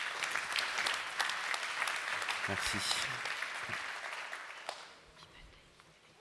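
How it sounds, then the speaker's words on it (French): An audience applauds a speaker at a talk on renovating the James Baldwin media library, steady clapping filling the room for about five seconds before fading, with a brief spoken thanks. "Je pense qu'on peut applaudir à nouveau M."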